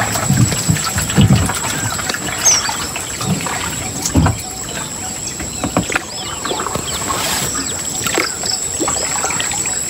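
A canoe glides across a rural tank lake, its paddle strokes making irregular splashes and trickles of water while birds chirp faintly in the open air around it.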